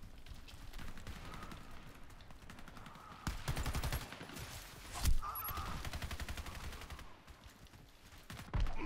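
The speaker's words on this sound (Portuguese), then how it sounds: "Só escuto tiro e não vejo ninguém." Gunfire in the first-person shooter Warface, bursts of rapid automatic shots and sharp single cracks, distant and fairly faint with a few louder bursts standing out.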